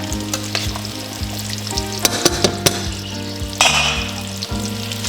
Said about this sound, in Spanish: Tengo que mover los tallarines hasta que si no se van a pegar.